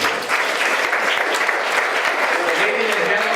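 Sustained audience applause at a town hall honoring a line of people who are being recognized, dense and steady throughout with faint voices mixed in.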